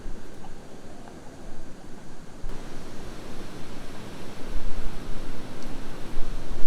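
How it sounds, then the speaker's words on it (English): Strong winter wind gusting around a chicken coop in brutal cold, a broad rushing roar that swells and buffets in uneven surges, loud and continuous. "That wind is crazy."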